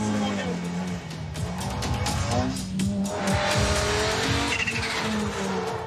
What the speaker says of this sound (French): On est en glisse avec une Audi Quattro S1